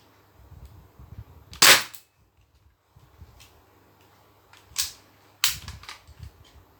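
A Thompson gun fires single shots at a target, three sharp, close cracks spaced seconds apart, with quiet handling noise between them.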